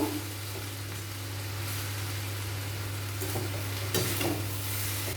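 Vegetable fried rice being stirred in a pan, a continuous close sizzle with soft scraping strokes over a low steady hum, growing brighter near the end.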